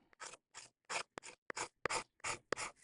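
A bone folder is pressed and rubbed across paper packaging to set the adhesive: about nine quick, close scraping strokes in a steady rhythm, quiet, with no talking.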